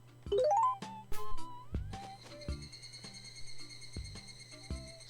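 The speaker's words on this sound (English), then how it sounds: "I don't think it's one of those cicadas that takes like 17 years to grow." Insects buzz steadily in the background of the Animal Crossing video game, a faint continuous high drone under soft game chimes and footstep-like taps.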